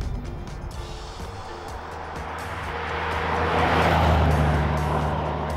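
Driving sound of a 1972 Bristol 411 Series 6 car, with a steady engine and road hum that swells louder toward the middle and end, heard close up with no one talking.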